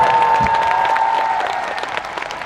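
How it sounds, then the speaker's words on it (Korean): A crowd at an outdoor event hosted by Kim Je-dong breaks into loud, close applause mixed with a few cheers, holding steady before gradually thinning and fading toward the end, with no talking. "박수를 저한테 치면 제 기분이 좋을까요? 여러분이 기분이 좋을까요? 네, 치세요"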